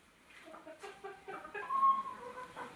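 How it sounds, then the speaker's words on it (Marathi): A hen clucks in short, soft, repeated calls, fairly close, with a slightly longer drawn-out cluck toward the end. "आता ही कोंबडी तरी पण बसली आहे"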